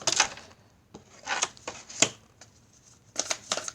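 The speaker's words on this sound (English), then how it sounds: "I'm going to pull a few more cards and see." Tarot cards being shuffled and pulled from the deck, giving soft, brisk riffling and sliding bursts that come in short separate flurries at close range, with quiet pauses between them.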